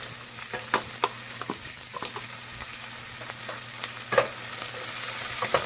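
Shrimp and snow peas stir-frying in a fry pan, a steady close sizzle with scattered light scrapes and taps of stirring throughout, no voices.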